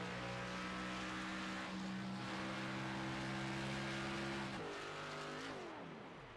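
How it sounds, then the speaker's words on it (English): A stock car in a racing video game at Atlanta drones with a steady, loud engine hum while the driver clutches to save fuel, and its pitch drops and shifts near the end. "You can hear him clutching it. He's trying to save a little bit of fuel."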